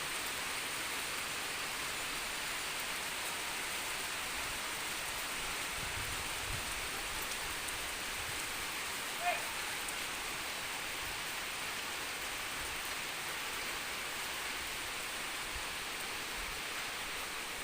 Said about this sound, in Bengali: কত সুন্দর বৃষ্টি।